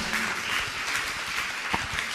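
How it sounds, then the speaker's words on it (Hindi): An audience at a religious gathering breaks into steady, dense applause, many hands clapping together at moderate distance with no pauses. "जोरदार ताली बजा दीजिए"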